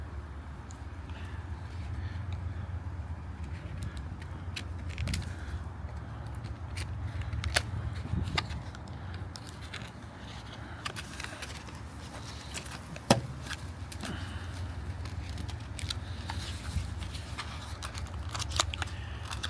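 Scissors snip and plastic crinkles as the packaging of a pair of MOLLE webbing knives is cut open, with scattered clicks and rustles, fairly quiet and close, with no talking.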